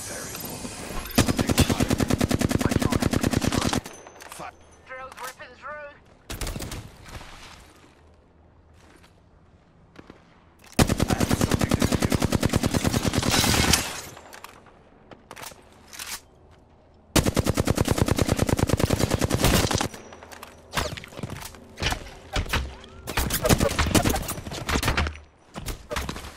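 Bursts of automatic gunfire in the game Apex Legends, several long loud sustained volleys separated by quieter gaps with scattered single shots and smaller bursts.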